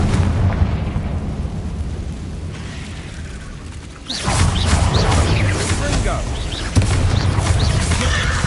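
The Confringo fire spell bursts in Hogwarts Legacy, a booming blast that swells midway into a loud, sustained rumble with crackle, under game noise and a voice calling out.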